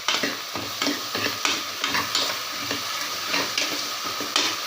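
Salted vegetables are sautéed in a pan for a white kurma, with rhythmic scraping stir strokes every half second or so over a steady sizzle, close and distinct, and nobody talking.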